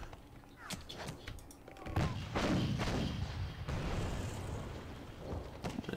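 Artillery fires during a video game battle of Mons, heard as a heavy thud and booming rumble that swells and lingers for several seconds, with someone talking faintly beneath it.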